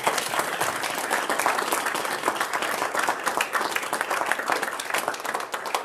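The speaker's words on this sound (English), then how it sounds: "Let's give him a round of applause." Audience applause at a Rotary club meeting welcoming a new member, a continuous room-filling round of clapping from a modest crowd, steady throughout with no talk over it.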